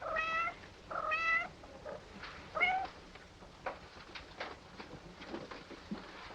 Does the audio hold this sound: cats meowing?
yes